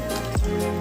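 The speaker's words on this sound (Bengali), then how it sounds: "ডালের মাপ মতোই আমি জল দিয়ে দিচ্ছি" Hot water poured into a bowl of boiled masoor lentils. Two short, close liquid gulps and splashes stand out over a steady background.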